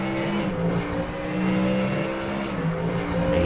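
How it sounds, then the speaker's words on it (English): A Mustang GT3 race car in the iRacing sim at the Nürburgring, during a NXTGEN GT3 League race, gives a loud, steady engine drone that rises and falls slightly as it holds high revs, with no voices. "listen to that Mustang. Fantastic sounding car."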